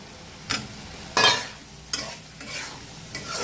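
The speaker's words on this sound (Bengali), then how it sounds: "একটু নেড়ে চেড়ে ভালো করে কষিয়ে নিই।" Pieces of liver frying in a spice paste with whole spices, stirred with a spatula in a pan: a quiet sizzle under several sharp scraping stirs spaced about half a second to a second apart, close and alone.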